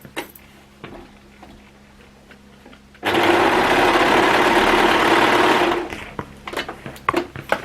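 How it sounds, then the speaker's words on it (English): An overlocker sewing machine whirs as it stitches the hem of old denim jeans, a quiet pause giving way to about three seconds of loud, steady, fast motor hum, then a few clicks and handling sounds. "Okay, we're done with the overlocking."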